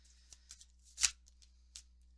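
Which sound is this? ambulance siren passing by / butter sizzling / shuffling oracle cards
shuffling oracle cards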